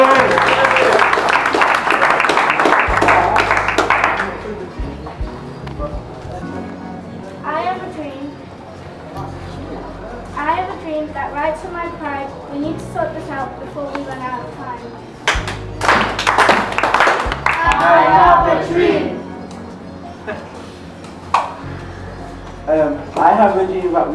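Applause from an audience breaks out loudly at the start and returns in bursts, with a voice speaking through much of it.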